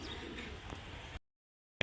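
Kaldam pigeons coo softly up close for about a second amid a noisy background. The sound then cuts to silence before a brief loud burst at the end.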